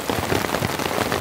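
Heavy rain drums relentlessly on a camping tent at night, a loud, dense patter of close drops with no voices.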